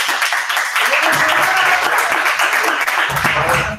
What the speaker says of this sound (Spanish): Están grabando los aplausos,